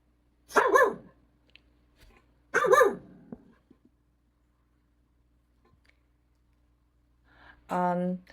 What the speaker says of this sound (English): In this case, is the bark.